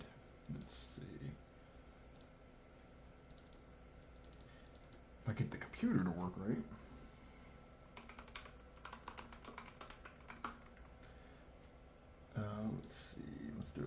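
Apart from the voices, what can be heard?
typing test on Ilovebee i61 gaming keyboard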